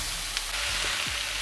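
A large pan of cabbage fries with a continuous dense sizzle and hiss, close and steady, with a few faint scrapes underneath.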